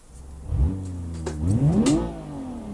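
A rally car in BeamNG cranks and catches, then the engine revs up and falls back twice, the pitch climbing sharply on the second rev, loud and close with nothing else heard.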